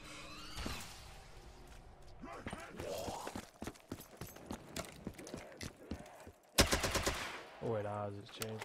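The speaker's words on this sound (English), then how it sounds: "Turned it into a light machine gun." A light machine gun in Black Ops 3 custom Zombies fires full auto in a fast run of close, punchy shots, followed by a louder burst near the end.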